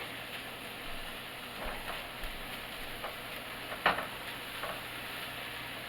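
Onions and garlic fry in a pan with a faint, even sizzle close by, along with a few soft utensil taps and one brief sharper clink.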